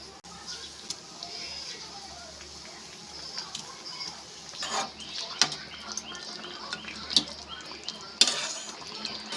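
Fried rohu fish pieces go into a pan of raw-mango curry with clattering metal knocks and scraping stirs, close and uneven, over faint background noise.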